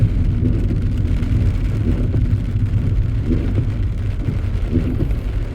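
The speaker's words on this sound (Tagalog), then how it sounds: "ang lakas ng ulan" Heavy rain in the UK heard from inside a car, a steady dense roar of broadband noise with low rumbling throughout, loud and continuous with no talking.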